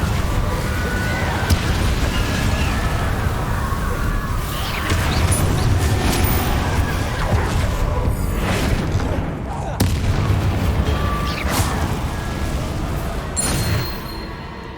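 In Hogwarts Legacy, an Incendio fire spell goes off amid a dense, continuous wash of booming blasts and crackling magical effects, with a voice talking over the loud game sound.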